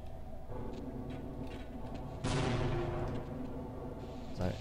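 A grenade explodes in the first-person shooter Half-Life: a single loud blast bursts midway through, its rumbling roar dying away over a continuous hum of game sound, with a smaller thud at the end.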